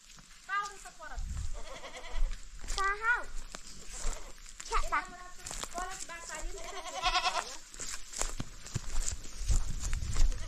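Goats bleat repeatedly and fairly close on a hillside in Linding, eastern Ilam, Nepal, with wavering cries coming one after another amid footsteps and movement.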